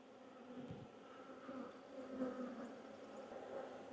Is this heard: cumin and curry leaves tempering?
no